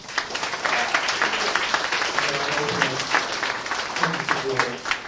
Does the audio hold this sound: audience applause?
yes